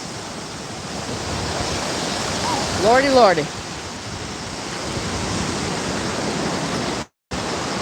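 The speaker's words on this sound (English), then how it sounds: "Beautiful waves coming in today. Not too big, not too small." Ocean waves break on the beach at Indian Rocks Beach as a steady, broad surf wash, with wind across the microphone. A person speaks briefly in the middle.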